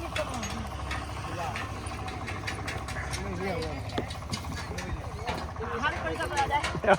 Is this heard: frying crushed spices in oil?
no